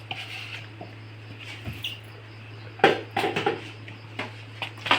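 Grated coconut is tipped into a pan of jackfruit and jaggery, giving close, scattered clinks and soft scraping against the metal, quiet at first and then a denser burst of knocks and rattles over a low steady hum.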